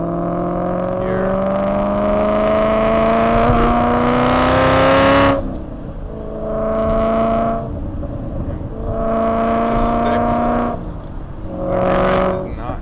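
A supercharged 2011 Ford Mustang GT powers through turns, its engine rising in long, loud accelerating pulls that drop off between corners, with supercharger whine over the exhaust and someone talking over it.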